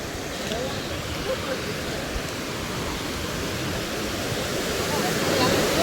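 Steady, dense roar of the flooded Harmadiya river fills the whole clip at a constant loud level, growing slightly stronger toward the end, with no voices.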